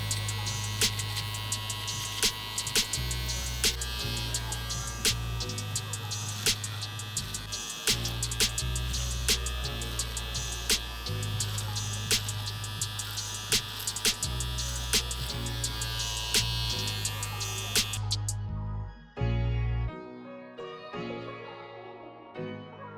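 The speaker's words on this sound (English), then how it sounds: "Now we use the trimmer, tap this bottom line right here," A Wahl electric hair trimmer runs close up with a steady low mains-type buzz, pulsing with regular clicks and taps as it works along a hairline, then cutting off near the end.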